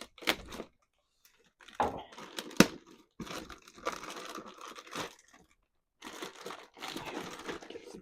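Plastic wrapping comes off a Spin Master Kaiju Slime Battle toy package in close, loud bursts of crinkling and tearing, separated by short pauses.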